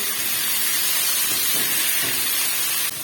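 Tomatoes dropped into onions frying in a pan, giving a steady, close hiss of sizzling that holds evenly throughout.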